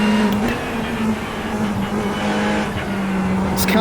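Race car engine in the iRacing video game, a steady loud drone holding a constant pitch throughout with a slight lift near the end, filling the whole clip with no talk.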